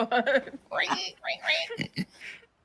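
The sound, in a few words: person imitating a pig squealing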